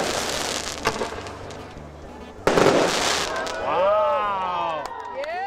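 Fireworks at a Canada Day celebration in Dyers Bay crackle and pop, with a sharp louder burst midway followed by whistling rising and falling tones, while people's voices and exclamations mix in underneath.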